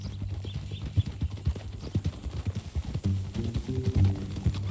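Horse hooves clip-clop in a steady, close walking rhythm in Red Dead Redemption 2, with tack clinking and a few low voiced phrases mixed in near the end.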